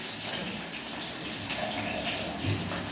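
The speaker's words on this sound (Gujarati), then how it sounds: "એમાં લઈશું આપણે પાણી." Water poured into a dish while preparing Surati sev khamani makes a continuous close splashing gush with no pauses for the whole few seconds.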